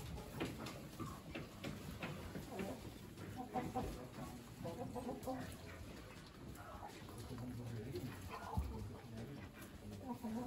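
Chickens of large breeds cluck and murmur in cages at an indoor small-animal poultry show, faint scattered calls mixed with crowd murmur while someone talks over them.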